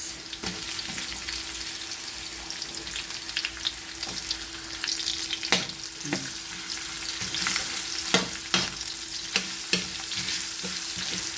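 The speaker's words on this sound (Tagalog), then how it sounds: "Gisa na po natin yung bawang" Garlic and onion sauté in a hot pan with a constant crackling sizzle, broken by occasional louder pops and spatula taps against the pan, and no voices.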